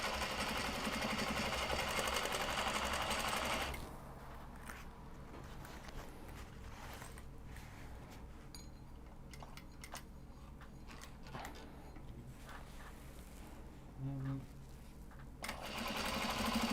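A sewing machine runs in rapid bursts stitching a Japanese fabric cross-body sling with dark thread, loud at the start and then in shorter stop-start runs with faint clicks between.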